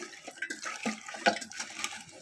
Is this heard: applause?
no